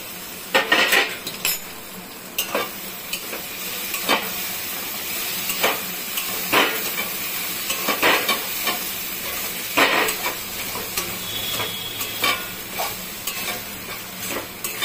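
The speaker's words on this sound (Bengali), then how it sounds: "ঢাকনাটা এখন তুলে দেখি" Metal pot clatter and scraping over a steady low simmer of kakrol (spiny gourd) cooking on a gas stove, with sharp clinks and knocks recurring every second or two, close and fairly loud, no voices.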